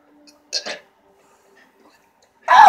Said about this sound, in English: Oh, the burp's worse than the taste!